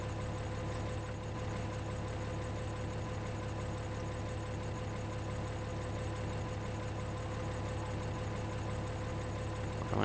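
A combine harvester engine in the Farming Simulator 13 video game drones steadily at a constant idle-like pitch, loud and unbroken throughout with no talk.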